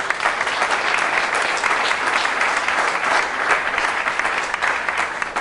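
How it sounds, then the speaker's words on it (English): Steady, thick applause from an audience at a Springfield housing investment announcement with state and city officials, continuous and even in volume from start to finish. "Let's give them a big round of applause."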